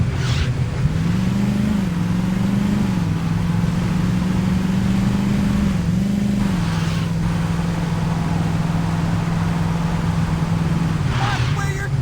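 A car engine in the Saints Row game drones steadily and close throughout, its pitch rising and dipping slightly as it revs, with faint background noise over it.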